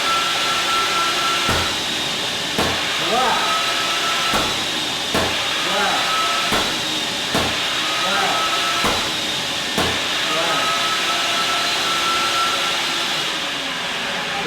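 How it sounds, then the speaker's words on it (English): A Dynamic Diamond Vacuum DDV 26 or 36 with its gate valve closed builds pressure as a loud, steady whooshing hiss, cut by several sharp periodic clicks. Someone speaks briefly over the noise. "Close the gate valve, you hear the pressure build up."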